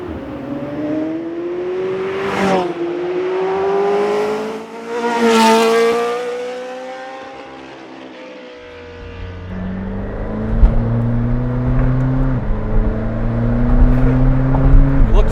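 A McLaren F1 or McLaren Senna engine revs and accelerates through rising gear pulls on suburban roads, pitch climbing then dropping with each shift, loud and close, settling into a lower steady drone.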